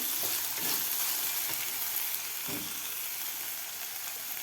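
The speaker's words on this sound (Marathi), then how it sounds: "हिरवी मिरचीसुद्धा आपल्याला या कांद्याबरोबर व्यवस्थित फ्राय करून घ्यायची आहे" Green chillies fry along with onion in an open pan, giving a loud, even sizzle with a few scraping stirs near the start and middle, close up and with no one speaking.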